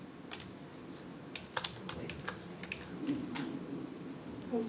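Clicky keystrokes on a computer keyboard, typed in short irregular bursts close by over a low room hum, with no voices.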